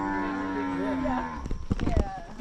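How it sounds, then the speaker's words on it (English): Mountain cows moo in a long, loud, close call that bends in pitch, followed by rustling and shuffling sounds on a trail trek in Colombia. "Look at the baby cow."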